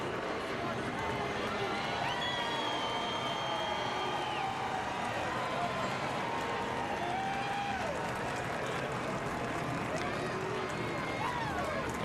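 A NASCAR crowd at Pocono cheers steadily at the 2018 Gander Outdoors 400 as the winning driver climbs from his car. The broad, distant roar of fans runs throughout, with a commentator talking over it.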